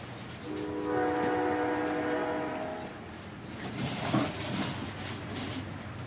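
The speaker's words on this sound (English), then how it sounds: "And we need the train to keep on rolling." A rolling train sound effect on a drone and tech talk show: a steady rumbling rail roar with a sustained horn blast early on, continuous and fairly loud, with no voices.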